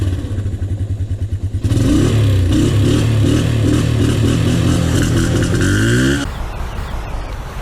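Honda TRX 125 ATV engine cranked by its electric starter, a rapid sputtering crank that catches and settles into a loud, close, steady idle, then cuts off near the end.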